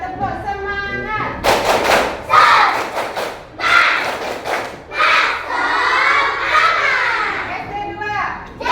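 Indonesian primary schoolchildren at SD 2 Dalung perform a tepuk semangat spirit clap in class, with bursts of rhythmic group clapping and shouted chanting voices, loud and close, after a brief adult voice at the start.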